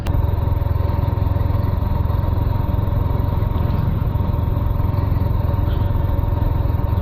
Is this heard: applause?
no